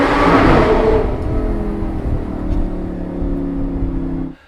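An Audi R8 V10 with a Tubi-style aftermarket exhaust gives a loud, close rev that flares hard and then settles into a steady, droning idle before cutting off abruptly. No one speaks.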